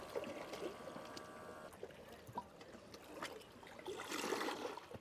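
Coffee from a portable coffee maker pours in a thin, faint trickle beside the sea, with a soft hiss and water sounds rising toward the end; no one speaks.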